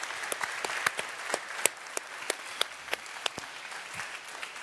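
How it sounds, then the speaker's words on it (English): A church audience claps to thank the board, giving thin, scattered applause from a modest crowd in which individual sharp claps stand out over a soft background of hands. "I want to ask you, if you wouldn't mind, to clap and thank the board"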